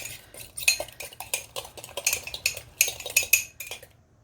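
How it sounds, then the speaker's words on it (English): A utensil clinks rapidly against the inside of a mug in uneven bursts of stirring egg for a microwave omelette, close and fairly quiet, with no talking. "then mix it up real nice"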